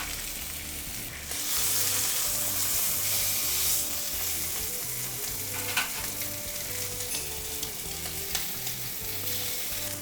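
Pork porchetta sears in a frying pan with a steady, even sizzle and crackle of fat, a continuous close frying hiss with occasional sharper pops and no talking.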